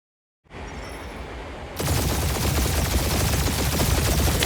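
Gunfire barrage in the Guardians of the Galaxy video game, a dense continuous roar of rapid shots that swells abruptly louder partway through and keeps pounding without pause.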